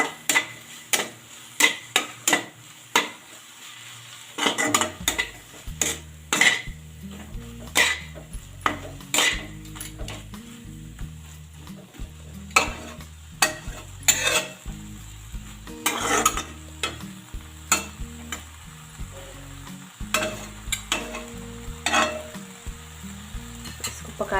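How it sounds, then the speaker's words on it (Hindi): Brinjal is stirred into a frying masala in a pan for a brinjal-fenugreek sabzi. Repeated metal spoon scrapes and clanks sound close over a continuous sizzle, starting after a few quiet seconds. "अब हम इसमें ऐड करेंगे बैगन। अच्छे से इसको मसाले में मिक्स कर लेते हैं।"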